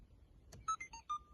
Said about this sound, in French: J'allume les feux, et là il y a une alarme.